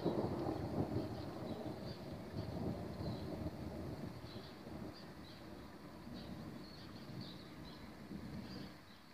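Thunder from a thunderstorm rolls as a long, deep rumble lasting several seconds, loud at first and slowly fading, with faint higher chirps and hiss in the background.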